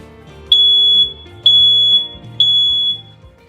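A smoke detector being tested sounds three loud, piercing, high-pitched beeps, each about half a second long and evenly spaced, with nothing else heard.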